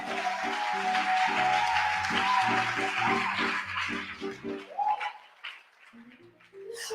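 A church congregation applauds and cheers to acclaim God, a broad sustained wash of clapping over steady keyboard-like music that fades out after about five seconds, leaving quieter music.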